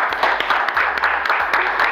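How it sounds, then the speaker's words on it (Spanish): A studio audience claps loudly for a new cast member on a TV show, with dense steady applause running throughout. "un aplauso fuerte para Yamila"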